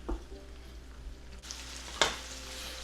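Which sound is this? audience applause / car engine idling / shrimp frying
shrimp frying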